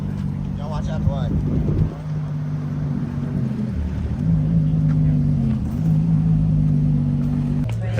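Pagani Zonda Aero supercar driving on a public road, its engine a deep steady rumble that shifts pitch as it changes gear and speed, heard close under people talking.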